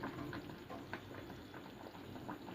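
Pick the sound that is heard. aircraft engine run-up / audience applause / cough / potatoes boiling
potatoes boiling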